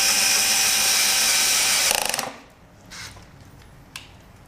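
Drill boring through metal mounting brackets for a light bar on an off-road moped, a loud, steady high whine that ends in a brief stuttering ratchet before stopping, followed by faint handling noises.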